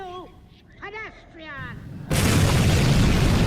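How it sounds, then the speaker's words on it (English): Explosion in a video game: a sudden loud, sustained rumbling blast cuts in after someone talks and gives a short excited cry, then roars on steadily to the end. "Another explosion."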